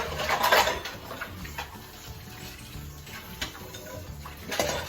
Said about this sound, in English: I'm gonna go ahead and wash that bowl while I'm over here.